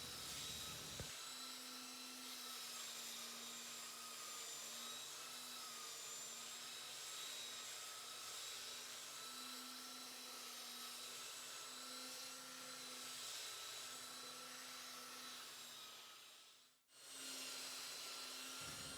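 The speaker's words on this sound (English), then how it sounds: "The tear out's going to have to be sanded by hand with a belt sander." A belt sander works by hand on wood tear-out for a live edge console table, a steady loud whining drone that runs continuously, dips briefly near the end, then resumes.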